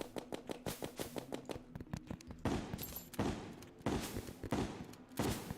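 Rapid gun firing sticky bullets in Terraria, a quick steady run of sharp shots that breaks into heavier, scattered bursts with a noisy, crackling tail.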